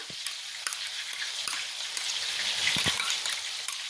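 Chicken lollipop mixture with chili paste sautéed in hot oil over high flame, a steady close sizzle with brief scraping stirs and clinks breaking through at intervals.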